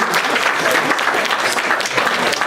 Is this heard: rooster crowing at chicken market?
no